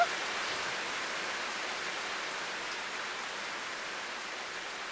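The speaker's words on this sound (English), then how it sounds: "It started to rain." Rain falls in a video game scene, a steady, even hiss of dense droplets that holds constant throughout with no talking.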